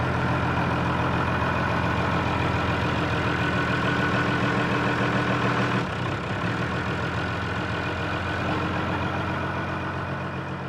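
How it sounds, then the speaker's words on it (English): A tractor engine runs steadily at close range on a farm while hay bales are moved. The rumble is loud and continuous, with a brief dip in load about midway before it settles back to a steady drone. "use his tractor to just simply move one of these bales of hay"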